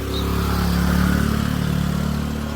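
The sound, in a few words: scooter engine revving uphill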